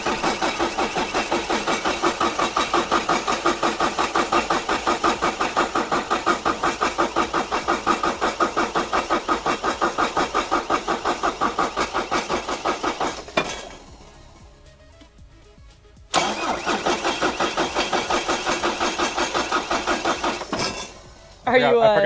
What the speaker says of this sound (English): I'm gonna crank it over a few times to get some oil moving around in there